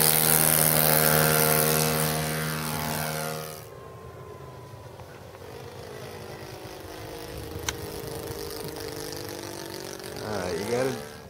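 A radio-controlled Hawker Hurricane model plane with a .91-size engine drones overhead, loud and steady at first with a falling pitch, then fading to a faint distant hum that swells slightly near the end.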